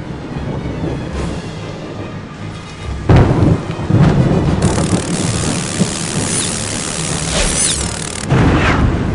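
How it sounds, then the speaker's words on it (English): Stormy weather in the Harry Potter and the Prisoner of Azkaban PC game: steady rain and wind under loud rolling thunder, with heavy cracks and booms around three, four and eight seconds, no voices. "the following morning was stormy and foul"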